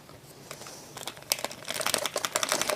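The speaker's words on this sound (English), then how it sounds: "So you can see this grain is going in there." Grains poured into a container for fermented sauerkraut, a dry rattling patter that starts faint and sparse and grows denser and louder into a continuous rustling trickle, close up with no talking.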